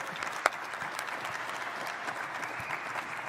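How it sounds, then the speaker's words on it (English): An audience applauds boxer Roman Gonzalez at a boxing interview event, a steady, dense wash of clapping from a crowd that holds throughout without pause. "I think a round of applause"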